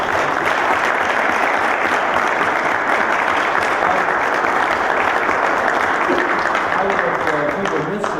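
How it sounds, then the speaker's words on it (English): An audience gives sustained applause for volunteers who run a town's sports and recreation programs, dense even clapping at full strength from start to finish with a faint murmur of voices underneath. "I'd ask you to give these folks a huge round of applause for their work."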